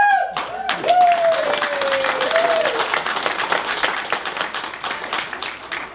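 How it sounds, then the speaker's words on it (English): An audience claps and cheers for a speaker taking the stage at a public transit meeting, dense sustained applause with a whistle or shout near the start, fading slightly toward the end. "With her own cheering section."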